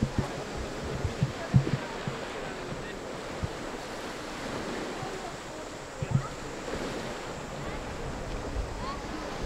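Surf washing onto the beach at Silver Beach Resort on Koh Samui, Thailand, a steady wash of waves with wind buffeting the microphone throughout and a few sharper bumps.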